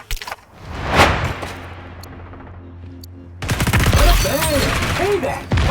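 Rapid submachine gun fire in the online shooter XDefiant, sharp bursts over a steady game hum, followed by a dense stretch of continuous firing mixed with other game sounds and a voice speaking over it.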